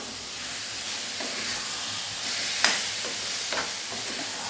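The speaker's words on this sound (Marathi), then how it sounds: "आता स्लो गॅसवरती आपल्याला हे छान परतून घ्यायचं आहे" Mashed brinjal fries on low gas in a pan, giving a steady soft sizzle and hiss with a few scraping stirs and light clicks, close and alone.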